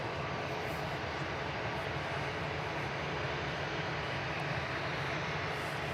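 Aircraft engines idle steadily at Manchester Airport as a Lufthansa plane waits to depart, a continuous broadband rumble and hiss holding at an even, moderate level with no talk.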